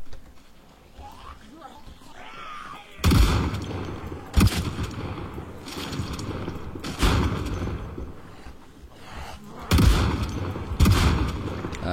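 Gunfire in the zombie survival game Project Zomboid booms out in several loud, separate bursts, mixed with game noise, while someone speaks.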